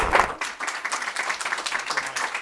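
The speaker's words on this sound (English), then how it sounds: "Would you please welcome and give him a big hand of applause" Applause from a conference audience at the International Mandela Effect Conference, greeting speaker Jerry Hicks; a brief burst of steady, dense clapping in a hall, fairly loud throughout with no one talking over it.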